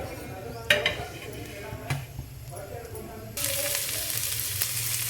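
Long-sliced medium onions drop into hot oil and ghee in a pan for a ragi roti roll, and a loud, steady sizzle swells up after a few clinks of utensils, with a voice talking in the background.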